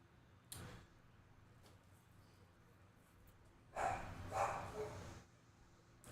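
A dog barks a few times in a room, short sharp bursts that stand out at moderate loudness over a quiet background.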